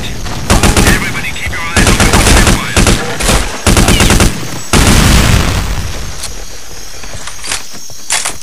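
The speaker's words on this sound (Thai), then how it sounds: "ด่านนี้กลับระเบิดเยอะหน่อยต้องระวัง" Gunfire in the Counter-Strike Zero video game, loud rapid bursts of automatic shots in several clusters, followed by a sustained explosive blast and fading rumble.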